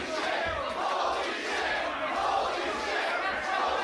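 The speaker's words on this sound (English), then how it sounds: "Listen to this crowd." Roaring pro wrestling arena crowd during a match, a dense sustained wall of cheering and chatter that stays loud and steady throughout.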